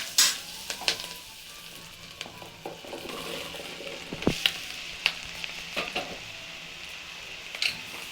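Pumpkin pieces and fried onions with chillies are stirred in a pan, with a soft sizzle under intermittent scrapes and sharp clinks of a spoon against the pan, close and without talk.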